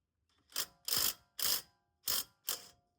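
A ratchet wrench fitted with extensions clicks through short strokes on a worn, rusty front wheel bearing, five distinct close ratcheting bursts spaced about half a second apart in a quiet space.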